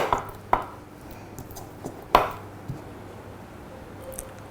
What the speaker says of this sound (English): I am going to crush the cardamoms little, just to crush.